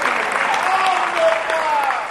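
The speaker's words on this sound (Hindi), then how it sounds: "तालियां बजा दीजिएगा।" Audience applause at a religious discourse session in Agra, a brief burst of clapping from a gathered crowd, mid-level and fairly even, with a voice speaking over it.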